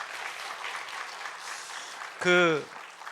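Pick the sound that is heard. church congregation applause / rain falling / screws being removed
church congregation applause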